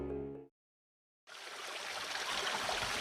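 River water flowing steadily as clothes are washed in it during a school drama scene, a continuous close rushing wash that cuts in after a brief silence following a short burst of tonal sound.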